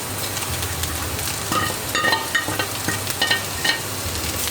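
Capsicum and black pepper frying in a little oil, giving a steady close sizzle with scattered scraping stirs and light clicks of a utensil against the pan, with no one speaking.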